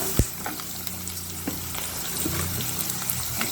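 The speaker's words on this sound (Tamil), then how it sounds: "இப்போ இந்த வெங்காயமும் பச்சை மிளகாவும் நல்லா வதங்கட்டும்" Onion, green chilli and capsicum sauté in a pan for leftover idli manchurian, a steady close sizzle with stirring scrapes and a few sharp clinks of a spoon against the pan, no talking.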